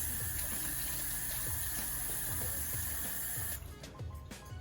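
Hot water runs steadily into a pan to make a water bath for baking a pumpkin flan, a close, loud splashing pour that keeps going, then thins out toward the end.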